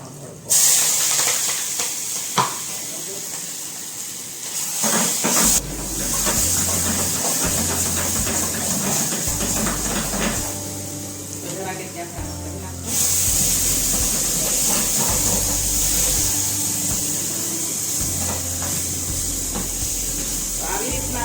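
Cumin and fenugreek seeds tempering in hot oil for kadhi in a home kitchen, a steady loud sizzling hiss that surges and fades in waves, with occasional clatter and talk over it.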